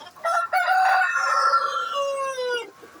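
A rooster of the tiger chicken breed, kept in a small backyard hobby flock, gives one loud drawn-out cock-a-doodle-doo crow close by, tapering at the end, with no talk.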